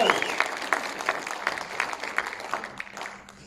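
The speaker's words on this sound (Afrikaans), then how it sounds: "Gaan 'n hande klap saam met my." Church congregation clapping their hands together, a moderately loud, busy patter of many claps with a rough beat and a faint voice underneath, tapering off toward the end.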